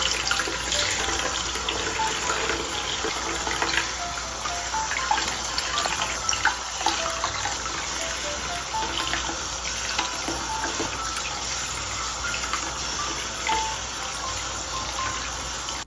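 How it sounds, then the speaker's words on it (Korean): Cold tap water runs steadily from a faucet as a pair of glasses is rinsed under the stream, a continuous close hiss and splash that holds for the whole stretch with no talking. "흐르는 찬물에 충분히 헹궈줄게요"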